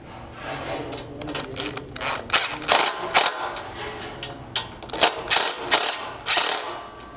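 A ratchet tightens 5/16 hardware on a Tacoma overland bed rack side assembly, clicking in quick repeated bursts with short pauses between strokes, close and fairly loud, with no talk.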